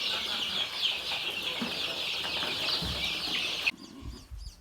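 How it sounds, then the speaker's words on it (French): Three-week-old porcelain chicks in a brooder house give a steady, dense chorus of high peeping chirps that carries on for several seconds, then stops abruptly, leaving a few faint thumps. "Nous sommes en présence des poussins porcelaines. Ils ont 3 semaines d'âge."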